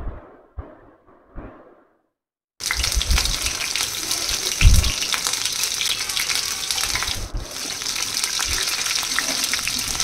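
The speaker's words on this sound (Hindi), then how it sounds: "पनीर को डाल के हल्का सा इसको शैलो फ्राई करूंगी" Paneer shallow frying in a pan, a loud steady sizzle bursting in after a few seconds of quiet, faint knocks and continuing broadband crackle with occasional louder pops, no talking.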